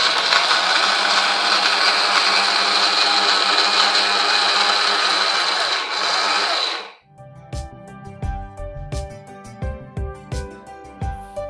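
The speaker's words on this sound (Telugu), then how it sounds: "మినపిండి బెల్లము కలిపి గ్రైండ్ చేసేసుకున్నాం కదా" A kitchen blender grinds urad flour with jaggery, a loud steady whirring roar for about seven seconds that cuts off abruptly, followed by quieter clinks and taps in a rhythmic series.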